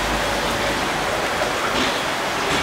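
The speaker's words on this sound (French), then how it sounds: "Sous cette pluie battante." Heavy rain pours in a dense, constant hiss that fills the scene evenly and loudly, with no pauses or voices.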